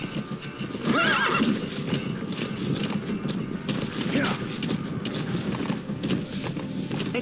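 Horse in the video game Metal Gear Solid V: The Phantom Pain gives a clear whinny with hoof clip-clops and steady game ambience, while someone talks over it.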